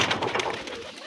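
A Moyna pigeon coos close by, a short soft series of low, throaty rolling coos with no talk over it.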